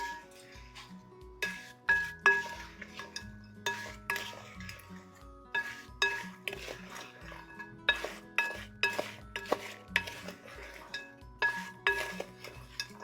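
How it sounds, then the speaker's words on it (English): Pecans are stirred with melted butter in a bowl for a maple snack mix, giving a steady, rhythmic run of soft scraping and light clinks of a utensil against the bowl, close and fairly quiet. "Now we're just gonna give it a good mix. Get those pecans really well coated."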